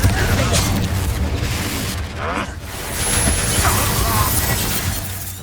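A Confringo spell blast in Hogwarts Legacy lands as a dense, loud crashing burst with shattering debris, layered among other combat effects, with voices sounding through the action.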